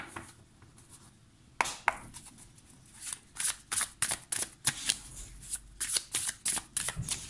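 A Muse Tarot deck is shuffled by hand close up. Quiet handling gives way to a quick run of crisp, rhythmic card-shuffling flicks, with no one speaking.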